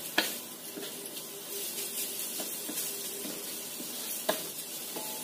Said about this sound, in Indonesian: Ini kita tumis duluan wortelnya biar layu atau matang duluan.